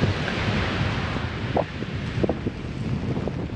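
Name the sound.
strong wind blowing into microphone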